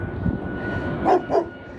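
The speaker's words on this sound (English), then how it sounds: "Ooh, that dog scared me." A dog guarding its home along Mission Beach's bayside walk in San Diego lets out two quick, fairly close barks over steady outdoor background noise.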